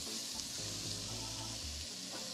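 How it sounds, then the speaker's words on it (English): Vegan meat mixture frying in oil in a pan, giving a soft, steady sizzle with a low bubbling tone in the middle. "I'm going to add about a tablespoon more of the oil, only because I want my meat mixture to cook through better."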